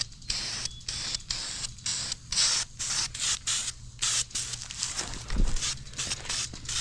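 Aerosol spray paint hissing onto a car's hood latch in an engine bay, in a steady run of short bursts, each a second or less, with brief pauses between them, close and fairly loud.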